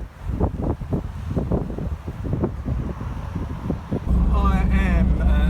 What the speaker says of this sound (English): It is chilly and windy.